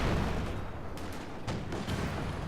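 In Company of Heroes 2, a Stuka bombing barrage lands as a quick cluster of three or four heavy explosions over a rumbling battlefield din.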